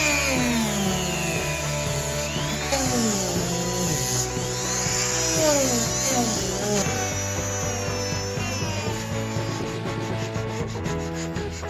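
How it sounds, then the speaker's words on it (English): A rotary tool cuts and grinds on a battle axe that kids are building in a garage workshop. It makes a continuous, loud, close whining rasp whose pitch shifts in steps as the tool works. "the next step involves using a rotary tool"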